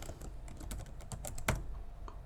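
A name typed on a computer keyboard, with quick, irregular, close key clicks tapping steadily over a soft background hum, and no voices.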